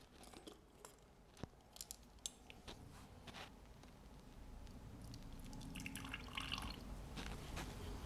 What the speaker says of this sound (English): spray some of it down, and fill the water dish.